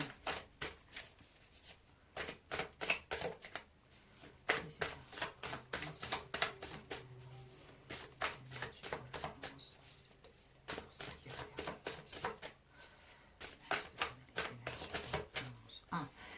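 Tarot cards being cut and shuffled in repeated dense riffling bursts of papery slaps and flutters, close and steady throughout, with soft speech murmuring faintly beneath at times.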